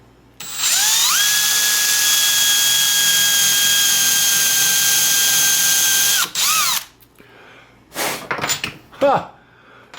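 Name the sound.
electric drill drilling wood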